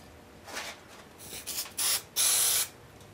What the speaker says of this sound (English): let's spray them up.